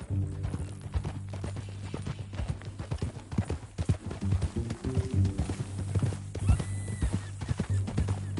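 Horse hooves clip-clop steadily in Red Dead Redemption 2, with an occasional neigh and a low background hum, continuing rhythmically throughout.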